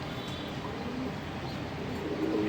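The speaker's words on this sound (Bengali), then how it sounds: "খুবই ভালো কবুতর।" A male racing pigeon in an indoor loft gives soft, low coos that are faint under a constant background hiss.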